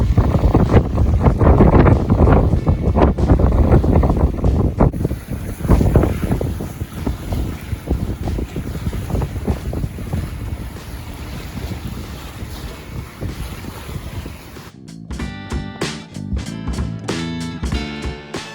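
A sailboat crosses the Sound of Islay in Scotland in strong wind, with roaring gusts buffeting the microphone and water rushing against the hull, followed by a burst of rhythmic music near the end.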